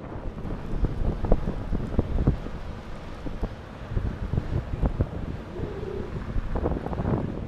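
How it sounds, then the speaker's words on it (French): Strong wind gusts buffet the microphone during a snowy fat-bike ride through Lapland, a loud, uneven rumble that rises and falls, with no talk. "bonnes grosses particules de neige dont le vent nous barbouille le visage et drape la route"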